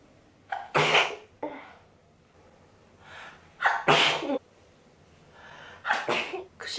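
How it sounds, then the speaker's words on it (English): A series of sharp, explosive sneezes, three or four bursts with quiet breathing gaps between them, close and fairly loud. "I can't stop sneezing"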